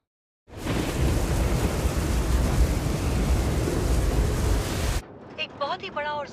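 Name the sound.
thunderstorm with thunder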